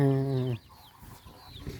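A hen gives a single loud, drawn-out cluck up close, followed by quieter rustling and faint background noise in a rural farmyard.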